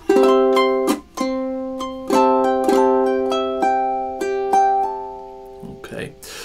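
Ukulele strumming the verse of a song, measures 13 and 14: bright chords struck in a syncopated rhythm, close and clear, ending with a brief muffled sound.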